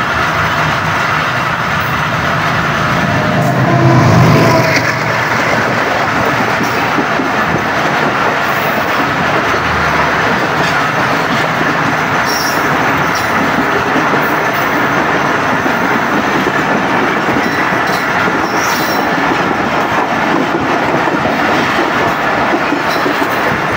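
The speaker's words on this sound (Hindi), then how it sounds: "ग्यारह बजकर 54 मिनट पर गाड़ी का अराइवल हुआ चीचावतनी रेलवे स्टेशन" The Khyber Mail train arrives at Chichawatni railway station in Pakistan, a loud, continuous rumble of rolling carriages with steady clickety-clack from the wheels and occasional faint squeals.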